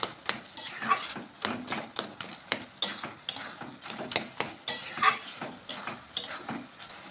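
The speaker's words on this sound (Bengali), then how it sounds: "ভালোভাবে আদাটাকে মিশিয়ে নিচ্ছি" Spoon stirring ginger into banana stem shukto in a pan, rhythmic scraping strokes repeating steadily and close, with faint sizzling underneath and no talking.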